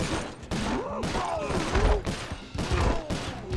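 Rapid bursts of gunfire in the video game Sly Cooper Thieves In Time, cracking volleys over game sounds and swooping effects, with a voice talking alongside.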